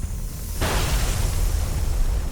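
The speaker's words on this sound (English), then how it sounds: "crushing pressure triggers cellular explosion." A sudden explosion bursts out after a moment of low rumble, then settles into a sustained loud roaring wash of noise that fills the rest of the moment.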